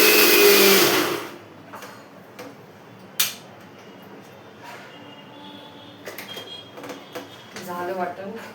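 A mixer grinder blends a wet masala paste of tomato, garlic and ginger in one loud, steady burst lasting about a second, then cuts off into a quiet kitchen with faint clicks and handling.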